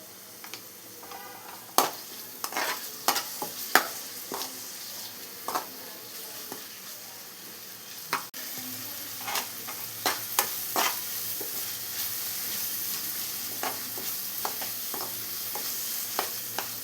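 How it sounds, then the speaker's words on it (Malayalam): Tomatoes and masala sautéing in a pan for Kerala beef curry: a continuous low sizzle broken by frequent sharp ladle taps and scrapes at an irregular rhythm, with no one speaking. "ഇനി ഇതെല്ലാം കൂടെ റോസ്മെല്ലെല്ലാം മാറി ഒന്ന് വെന്ത് വരുന്നവരെ ഒന്ന് വഴറ്റിയെടുക്കണം"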